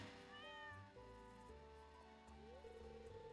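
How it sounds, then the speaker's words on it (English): A cartoonish cat meows a couple of times in the farming video game Stardew Valley, soft and clear over the game's gentle background music. "You see this cat here?"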